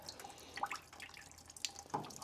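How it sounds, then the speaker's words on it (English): Excess water from a tankless water heater being flushed trickles and drips into a bucket beneath it, a faint, close, intermittent splashing with a few sharper drops and no talking. "I'm gonna get some excess water, so it can't hurt to have a bucket under there"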